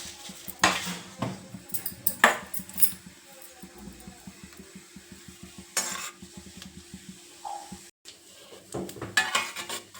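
Cumin seeds go into hot oil in a kadai while cooking a cauliflower curry, giving a soft crackle under repeated clinks and scrapes of a metal spoon against the pan, close by and irregular.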